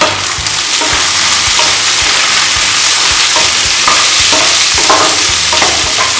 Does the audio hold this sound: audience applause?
no